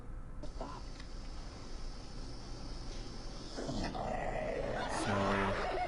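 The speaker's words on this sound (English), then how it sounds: "The self-hating dog." A dog in a video played back indoors growls and whimpers, faint at first, then louder yips and growls build toward the end over a low background hum.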